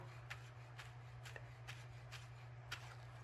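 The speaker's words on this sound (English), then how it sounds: "cut slices, but I'm not gonna cut into the stem." A knife slices through rolled-up basil leaves on a cutting board in a home kitchen, six soft, evenly spaced cuts over a steady low hum, faint and close.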